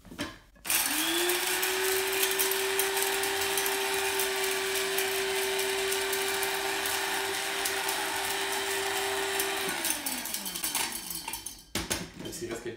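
An electric spice grinder whirs steadily for about nine seconds as it grinds salt, black peppercorns and coriander seeds, a loud, constant motor whine that starts abruptly and winds down with a falling pitch, followed by a brief rattle.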